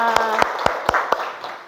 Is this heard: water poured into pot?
no